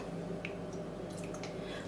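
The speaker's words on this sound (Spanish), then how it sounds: "Yo siempre al agua le pongo un poquito de aceite de oliva" A small splash of olive oil poured into a pot of cooking water for rice in a home kitchen, heard as soft, close dripping and squishing liquid sounds over a steady low hum.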